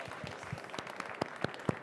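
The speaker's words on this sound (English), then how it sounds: "Please give us a round of applause" Scattered, uneven handclaps from a small audience after a panel session at an NGen trade fair event in Hannover, a few sharper claps standing out over a quiet room, with no talking.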